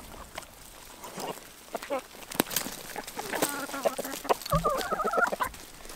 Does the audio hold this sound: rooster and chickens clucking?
yes